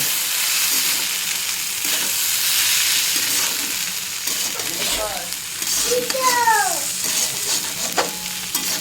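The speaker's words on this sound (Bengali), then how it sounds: "সুন্দর মতো চালটা এরকম ভেজে নেবে তেলের মধ্যে" Raw rice fries in white cooking oil in a kadai for pulao, giving a close, continuous sizzle with scraping stirring sounds throughout.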